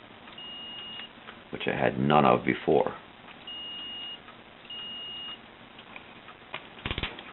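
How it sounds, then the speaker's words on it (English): A multimeter continuity tester on a Porter Cable belt sander trigger repair emits several steady, thin electronic tones, each lasting about a second, between bursts of nearby male speech. "Now, if you can hear that, that is the sound of continuity"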